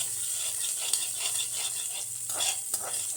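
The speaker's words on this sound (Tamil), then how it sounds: "ஸோ ஆனியனை போட்டு இப்படி வதக்கிக்கலாம்" Onions sauté in a hot pan for a beans poriyal, with a continuous bright sizzle and the scrape and rattle of a spatula stirring throughout, close and fairly loud, with no voices.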